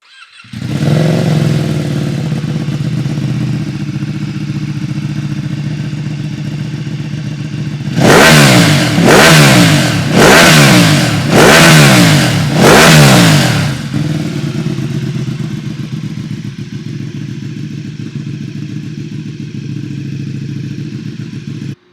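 A Ducati Streetfighter V2 fitted with an Arrow exhaust, baffle removed, starts and idles loudly, then lets out five sharp, evenly spaced revs before settling back to a steady, close idle.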